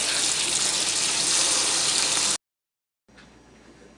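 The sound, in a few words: rinsing canned beans under running tap water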